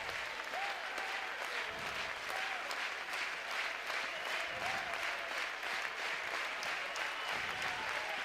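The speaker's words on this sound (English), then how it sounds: "this Ole Miss crowd that remains comes to its feet" Ole Miss baseball crowd at a Georgia game, on its feet cheering and applauding in a steady, dense roar of claps and shouts that carries through without a break, with a faint announcer voice drifting in beneath.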